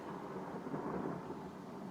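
A long, steady rumble of thunder rolls on without a break, low and distant-sounding at a modest level.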